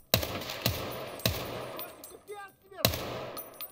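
Gunfire in Escape From Tarkov, a player shooting through plants: four sharp single shots at uneven intervals, fairly close and loud, with a brief chirping sound between the last two.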